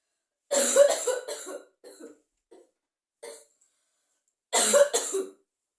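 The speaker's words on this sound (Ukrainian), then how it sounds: "Трішки вам моїх кашлювань зранку. Я кожен ранок дуже багато кашлю." A series of harsh coughs, close and fairly loud, in bursts separated by short pauses, with a final strong double cough near the end.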